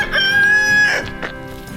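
Backyard chickens cackle close by in one loud, drawn-out call that breaks into shorter clucks, with no voices.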